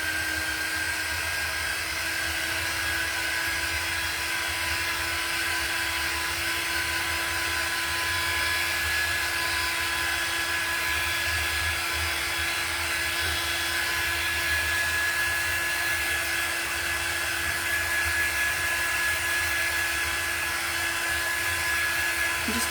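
A hair dryer runs nonstop at close range, drying a chalk stencil craft, with a loud steady whirring roar and a thin tonal whine that stays even throughout, no voices.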